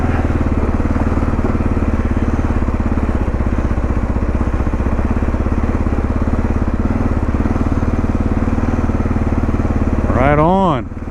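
A 2022 Kawasaki KLR650 motorcycle climbing a mountain road, its engine droning loud, close and steady throughout, with a short spoken remark rising over it just before the end.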